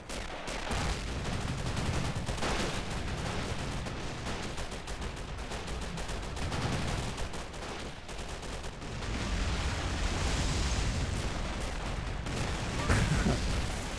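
Battle gunfire and artillery in the Men of War game with the RobZ Realism mod: dense crackling rifle and machine-gun bursts with heavier booms, continuous and moderately distant, no voices.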